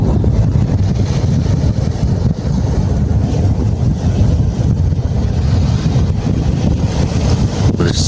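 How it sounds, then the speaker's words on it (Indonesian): Ocean surf rolls and crashes in a continuous, heavy roar, with strong wind buffeting the microphone throughout and no voices. "bersama deburan ombak samudra"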